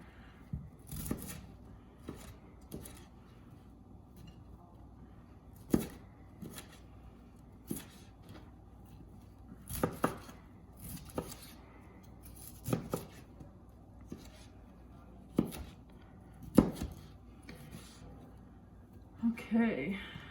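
A knife chops broccoli on a cutting board in a home kitchen, giving a run of sharp, irregular knocks, some louder than others, close by and spread across the whole stretch while a person talks over them.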